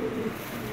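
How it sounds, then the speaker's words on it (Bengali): A female Lahori pigeon gives a brief, soft, low coo, close by and alone. "দেখেন একেবারে কোয়ালিটিফুল একটা মাদি কবুতর"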